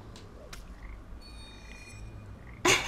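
A frog croaks in the puzzle game Papo & Yo: a few soft, sparse calls over a faint ambient hum, ending with a brief, louder burst of noise.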